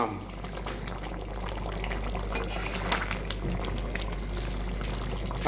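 Fish curry gravy cooked with mango bubbles and simmers in a pan, a soft continuous boiling and popping sound, fairly faint and close, with no talking.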